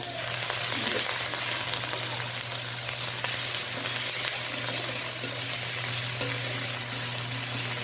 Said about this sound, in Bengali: এটাকে আমি সামান্য একটু এরকম নেড়ে ফেলে নেবো কিছুক্ষণ। একটু কষিয়ে নেব মশলাটাকে।